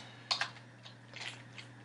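Quiet keystrokes on a computer keyboard, a quick cluster of clicks followed by a few softer taps, close and faint over a low steady hum.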